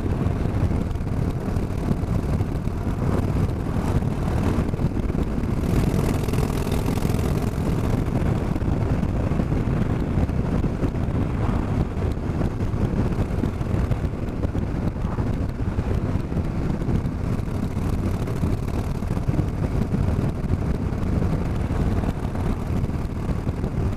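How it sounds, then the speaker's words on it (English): Wind gusts across an open field with hedges and trees, roaring as a loud, continuous buffeting against the microphone of a rider out on a motorcycle, steady throughout and with no voices. "Wind blowing me. coming across from the left."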